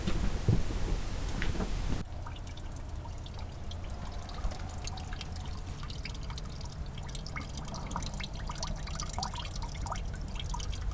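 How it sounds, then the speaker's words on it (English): Fluids drip and trickle steadily from an old loader that has sat unused and collected water, a continuous close spatter of drops landing in a container, with a brief louder rumble at the start. "So we're draining all the fluids out of her."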